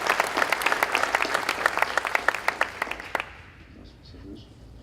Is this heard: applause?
yes